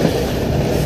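Sivas–Divriği passenger train running on rails, a loud, dense, steady rumble of wheels and carriage noise heard from close by in a short burst with no voices.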